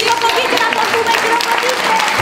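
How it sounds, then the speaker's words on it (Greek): Children in a theatre audience clap together in a dense, steady burst of applause, loud and close, filling the whole moment. "Ελάτε παιδιά, χειροκροτήστε όλοι μαζί."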